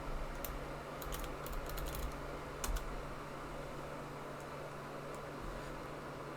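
Quick bursts of keystrokes on a computer keyboard, clustered taps early then sparse isolated clicks, close and fairly quiet over a steady background hum.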